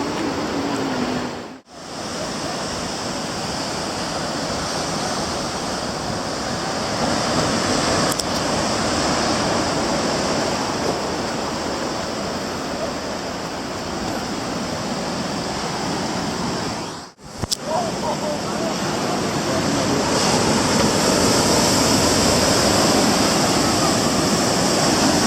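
Big ocean waves at a beach in Bali, a dense, steady roar of surf that fills the whole clip, loud and near, with two brief dropouts and no speech.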